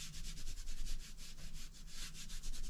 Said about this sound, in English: Make sure it's good and oiled up. I'm not gonna put much on it. I'm just gonna rub some in here